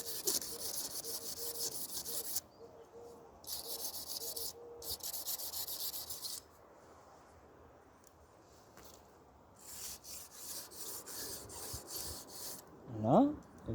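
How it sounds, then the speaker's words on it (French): A wire brush scrubs a Renault 4L car door in rough, rasping bursts that start and stop, with quieter gaps between them and a brief clatter near the end. "De brosse métallique."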